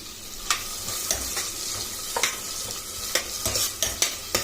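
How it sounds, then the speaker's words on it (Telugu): Thinly sliced onions fry in oil in a pan while a spatula stirs them, a continuous close sizzle punctuated by a dozen or so crisp scraping clicks at an uneven rhythm, with no one talking. "ఉల్లిపాయలు మంచి కలర్ మారే వరకు మనం కలుపుకొని పెట్టుకోవాలి."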